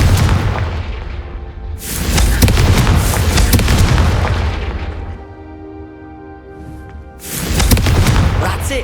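Repeated loud fiery blasts from the Confringo spell in Hogwarts Legacy, booming bursts crashing close and heavy, a lull with a lingering ringing tail, then another explosive hit near the end.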